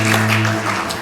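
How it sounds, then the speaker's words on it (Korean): Congregation clapping during a church service, a dense steady wash of many hands filling the room, with a sustained organ or keyboard tone underneath. "박수로 영광 돌리겠습니다."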